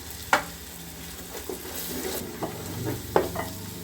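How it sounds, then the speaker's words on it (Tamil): Ground shallots frying with ginger garlic paste for biryani, a soft steady sizzle broken by a few sharp spatula scrapes and taps against the pan, close and moderately loud. "இந்த அரைச்சி வச்ச சாம்பார் வெங்காயத்தை நம்ம அதில் சேர்த்துக்குவோம்"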